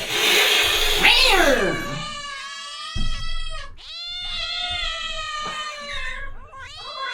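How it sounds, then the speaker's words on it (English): A cat meows and yowls loudly and close by, giving several drawn-out, wavering cries one after another, with short gaps between them. "Freaking cat."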